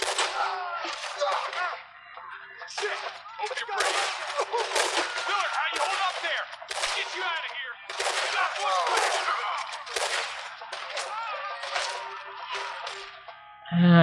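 Gunfire in the video game Red Dead Redemption 2 comes as repeated sharp bursts of shots in clusters, fairly loud and close, separated by brief lulls and mixed with other game sounds.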